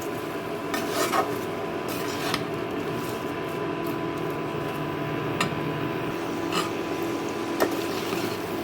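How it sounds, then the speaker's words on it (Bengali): Jackfruit, potato and prawns stir-fried with spices in a pan, giving a steady close sizzle with soft scraping and stirring strokes and occasional light clinks of a utensil against the pan. "এখন আমি এটাকে এক থেকে দুই মিনিট একটু এই এঁচড় আলু চিংড়ি মাছটাকে মশলার সাথে একটু কষিয়ে নেব"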